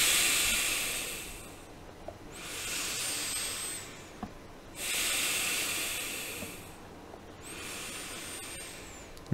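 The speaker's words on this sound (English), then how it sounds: "breathe initially at a pace so you can hear the air flowing through your nostril" Slow, deep breathing through the nostrils during a guided meditation, with long airy inhales and exhales repeating in a steady cycle, close and fairly loud, with no talking.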